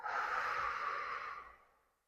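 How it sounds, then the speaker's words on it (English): One long, deep exhale through the mouth during a Pilates breathing exercise, close and breathy, steady before fading out over about two seconds. "then exhale out through your mouth"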